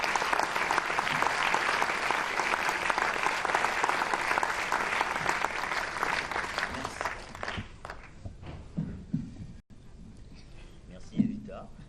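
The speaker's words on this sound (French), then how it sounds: "applaudissez chaleureusement Monsieur Jean-Philippe Césaire et Monsieur Chevry" A conference audience in Guadeloupe applauds warmly, dense sustained clapping that fills the room for several seconds before thinning into scattered claps and fading out, with a voice speaking faintly near the end.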